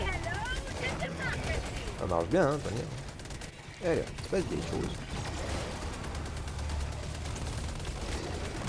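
Laser cannon fire and gunfire in the shooter game Helldivers 2 crackle in bursts against a steady mechanical game bed, with someone talking over the action.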